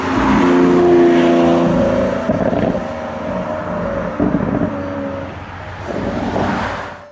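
Toy Lamborghini car with a steady engine-rev sound effect, loud and continuous with wavering pitch and a few louder surges.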